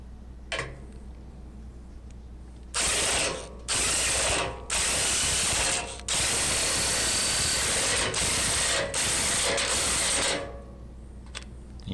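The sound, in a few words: ratchet tightening rusted-out anchor bolts on steel door frame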